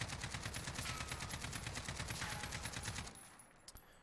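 An AK-47 rifle in Warzone fires a sustained full-auto burst of rapid, evenly spaced shots for about three seconds, then stops, leaving a couple of faint trailing clicks.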